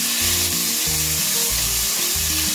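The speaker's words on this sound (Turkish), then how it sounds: "Bakın hemen iç yağımızı kavurmaya başladı." Lamb kidney suet fries in a pan with a loud, constant sizzle, close by, and a low rhythmic stirring or scraping pulses underneath.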